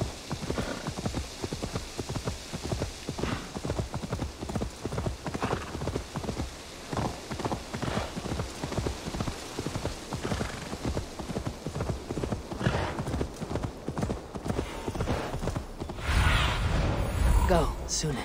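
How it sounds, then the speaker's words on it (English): A horse trots in the video game Dawn of Ragnarok, its hooves making a steady, rhythmic clip-clop that runs the whole way through and swells a little louder near the end. "Just a random horse?"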